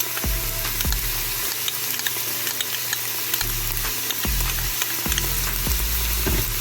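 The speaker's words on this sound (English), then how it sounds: "Saute your peppers and onions for about 3 minutes." Peppers, onions and garlic sautéing in a pot for Cajun chicken, a steady close sizzle broken by repeated scraping stirs of a utensil, with no talking.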